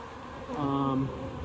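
Honey bees buzzing at an open hive during an inspection, a low steady droning hum that swells briefly as one passes close to the microphone.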